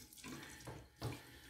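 Tap water runs steadily to rinse the handle of a Maggard 28 mm super high density badger shaving brush, a close, continuous splashing hiss that swells briefly twice.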